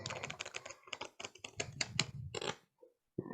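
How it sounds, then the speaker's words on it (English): Playing cards shuffled by hand at an open mic magic show: a rapid burst of crisp riffling clicks for about two and a half seconds, stopping, then a single brief rustle, close and moderately loud with no talking. "shuffle the deck."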